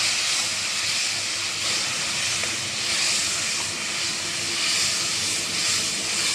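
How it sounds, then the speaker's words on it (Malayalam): A ginger curry with jaggery and tamarind syrup bubbles and simmers in a pot, a steady hissing rumble that swells gently and continues throughout with no talking. "പിന്നെ ഒന്ന് ഇരുന്ന് തിളക്കട്ടെ"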